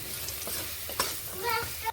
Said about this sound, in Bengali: এইভাবে নেড়ে ভেজে নিচ্ছি আলুগুলো